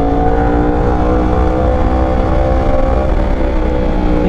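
A 2021 Yamaha R1 sport motorcycle with a very loud aftermarket exhaust revving, producing a sustained, loud, close engine roar with steady harmonic drone and no talking.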